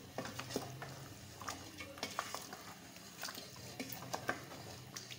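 Boiled meat fries and gets stirred in a pot for korma, with quiet irregular scraping and clinking of a spoon against the pot over a faint sizzle.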